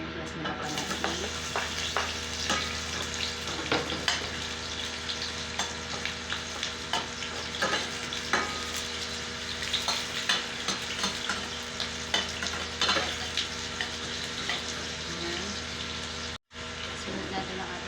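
Garlic and onion sautéing in a pan for sardines with bottle gourd, a steady close sizzle of frying with repeated scraping and stirring clicks throughout, briefly cutting out near the end.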